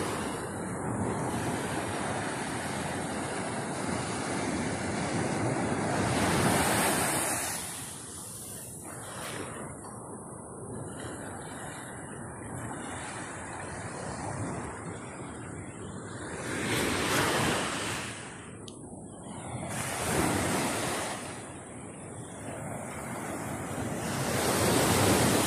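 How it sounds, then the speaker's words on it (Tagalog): Big ocean waves crash and surge onto the shore at Lian, Batangas, a steady roar of surf with several louder breaking swells and wind buffeting the microphone, no talking. "Laki ng alon."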